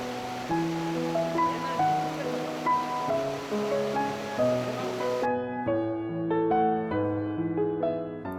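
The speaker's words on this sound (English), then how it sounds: "Streams flow in steep curves through the gaps among white boulders." A mountain stream rushes among white boulders in a winding canyon, a steady broadband wash of water heard under prominent music that continues after the flowing sound cuts off partway through.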